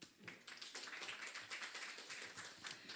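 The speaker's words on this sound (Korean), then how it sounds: "큰 박수로 맞이해 드릴까요?" Faint clapping from attendees welcoming the party leader at a youth policy network announcement event, a steady patter of hand claps heard from a distance.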